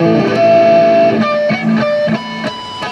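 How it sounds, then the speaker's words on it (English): Bell-like electric guitar natural harmonics ring out over a sustained, effect-laden tone, with several chiming notes plucked in succession and left to shimmer. "So when you hear those kinds of things, those are natural harmonics."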